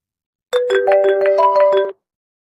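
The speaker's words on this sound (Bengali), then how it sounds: "আমি আপনাদেরকে একটু শুনিয়ে দিচ্ছি রিংটনগুলো যেখানে প্রেস করলেই অটোমেটিকলি চলবে" A bright melodic iPhone ringtone plays alone for about a second and a half, a quick run of chiming notes, then stops.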